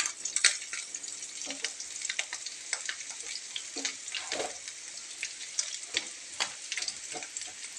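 Oil crackles and sizzles as small pieces of chundapodi (turkey berry) are fried for pickle, with frequent sharp pops and occasional stirring scrapes, fairly close.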